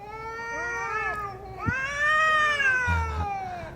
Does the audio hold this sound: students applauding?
no